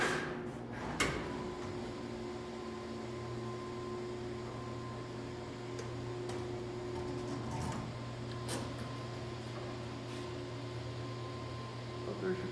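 Otis freight elevator with an ECA micro-drive modernization, running in a Chicago building: a steady low motor hum and drive whine drone throughout, with faint clunks and a sharper knock near the start, no talking.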